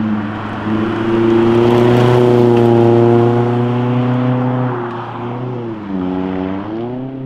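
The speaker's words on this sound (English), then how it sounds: "That's another car." A car engine drives past at night on a mountain touge road, its droning note rising and holding loud, then dipping and shifting pitch as it recedes, with no talk over it.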